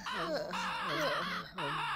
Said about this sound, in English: Big Bird! Where's this thing's parents